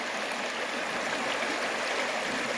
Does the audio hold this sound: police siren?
no